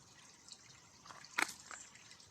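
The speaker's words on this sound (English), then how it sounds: "I'd love to know what this brook's called" A small brook trickles faintly outdoors on a July hillside trek, its soft running-water hiss broken by a few brief splashy bursts near the middle.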